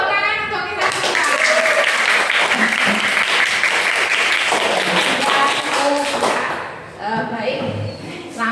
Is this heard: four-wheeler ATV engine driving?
no